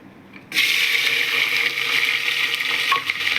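Onion and garlic dropped into hot oil that has already browned, a loud broadband sizzle bursting in after a quiet half second and hissing steadily to the end, close up in a home kitchen.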